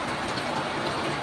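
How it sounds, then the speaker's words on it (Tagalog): Heavy rain pours outside a clubhouse as a dense, even wash of broadband hiss with no breaks, loud and close for a brief stretch, with no voices. "Kasi ngayon, tingnan niyo, malakas ang ulan."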